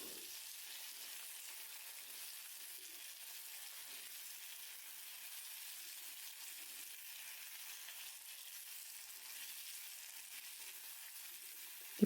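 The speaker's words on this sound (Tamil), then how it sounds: "இப்போது ஸ்லைஸ்டு உருளைக்கிழங்கையும் ஆட் பண்ணிடலாம். பண்ணியாச்சு. இதை நல்லா கிளறி விடலாம்." Sliced potatoes fry in hot oil for a potato fry, a steady dense sizzle that holds evenly throughout, close and fairly quiet, with only faint stirring beneath it and no voices.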